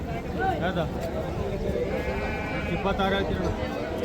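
Bannur sheep bleat at the busy Honnali sheep market in several wavering calls, with a steady crowd murmur and people talking all around.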